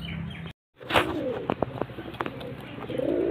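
Active male pigeon of a ghiye-patti breed cooing up close, a few throaty pulsed coos after a brief dropout, with faint chirps and rustling around it.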